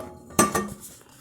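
A cooking pot knocks and clatters once against dishes while soaking in a sink of water, a short close metallic clunk followed by a few faint rattles and then quiet.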